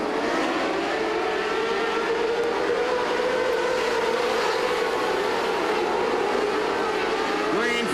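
A field of winged micro sprint race cars at a raceway rolls out to start a race, a loud continuous multi-engine roar with shifting pitch throughout, a race announcer talking over the engines.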